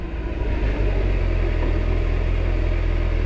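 Steady low engine rumble and wind roar from a Kawasaki ZX14R motorcycle cruising on a hot desert highway, loud and continuous without a break.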